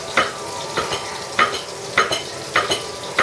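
Onions and beef patties sizzling in a frying pan, with a steady fry hiss broken by regular stirring scrapes about every half second, heard up close.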